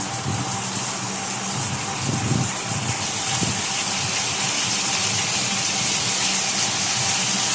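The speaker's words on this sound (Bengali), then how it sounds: "পেঁপে কাঁচা কলা সব দিয়ে হালকা করে ভেজে নেব" Pieces of papaya and green banana fry in hot oil in a pan, with a loud, steady hiss and gush of steam that carries on without a break.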